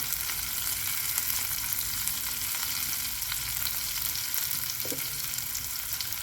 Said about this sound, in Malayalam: ഒന്ന് വഴറ്റി കൊടുക്കാം.